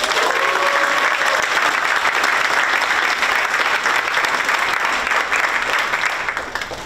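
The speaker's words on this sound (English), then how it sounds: "So round of applause for all the students." An audience applauding jazz band students at a music educators' concert performance, a dense, steady wash of clapping from a large crowd that holds strong, then eases slightly near the end.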